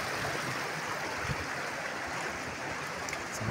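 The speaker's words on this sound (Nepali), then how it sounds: "झर्नामा आइपुग्यो है हामीहरू झर्ना आइपुग्यो कलकल" A steady broadband rush of the Kongjosam waterfall and its stream pours continuously nearby, loud and unbroken, with no voices.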